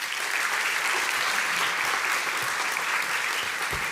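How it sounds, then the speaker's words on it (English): Sustained audience applause greets the United Kingdom Ambassador to NATO as he comes onstage at a NATO youth summit, a steady wash of clapping from a large crowd, fairly loud and even throughout with no voices over it. "Let's give a big round of applause"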